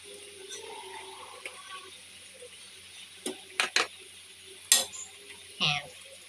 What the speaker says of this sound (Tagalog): Tapos ihalo natin yung talong.